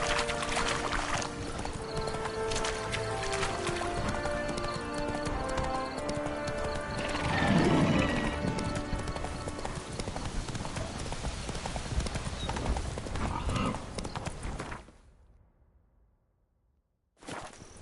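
Horse hooves clip-clop in a steady galloping rhythm in The Witcher 3: Wild Hunt, Blood and Wine, with an occasional whinny over game music and ambience, then fading out near the end.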